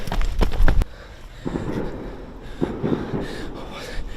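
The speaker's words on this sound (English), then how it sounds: "There's gunshots going off." A few sharp, loud bangs crack in quick succession at the start, followed by a quieter rumble and faint scuffling noises.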